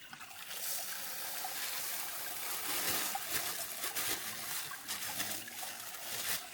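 Fresh water trickles and splashes steadily as it is gathered from a stream in a Vietnamese rainforest, a continuous close wash of flowing liquid with small bursts of splashing.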